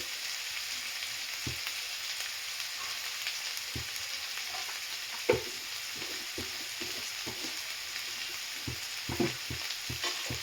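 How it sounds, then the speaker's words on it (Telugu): Prawn shells frying in a pan for a home-style prawn shell and brinjal curry, a steady bright sizzle with scattered soft knocks and scrapes of stirring. "చూడండి, రొయ్య పొట్టు కూడా ఇలా కొంచెం ఫ్రై అయ్యిందండి."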